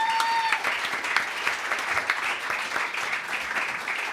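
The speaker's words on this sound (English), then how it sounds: "Please give a nice big round of applause to Emily." Audience applause at a live music venue, a steady wash of many hands clapping close by for a few seconds, with no talking over it.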